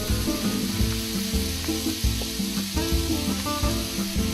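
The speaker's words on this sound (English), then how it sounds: "we're going to stir and saute these until they're fragrant" Onions sautéing in olive oil in a paella pan, a loud continuous close sizzle with a steady crackle, alone with no voices.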